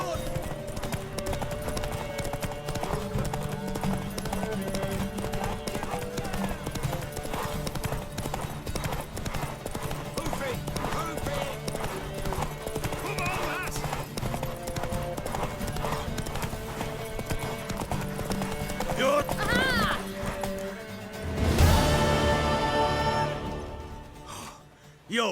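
Rhythmic hoofbeats of a galloping horse in The Witcher 3: Wild Hunt under music and voices, ending in a loud whinny and snort near the end.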